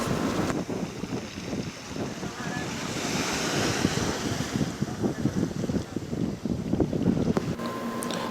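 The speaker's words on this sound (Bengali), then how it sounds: "আর পানিগুলোর আওয়াজ হচ্ছে অনেক বেশি, কি পরিমাণ যে আওয়াজ দিচ্ছে পানিগুলো" Sea waves crash and surge at a Jeddah beach, a loud continuous roar of surf with rolling swells and heavy wind buffeting the microphone throughout.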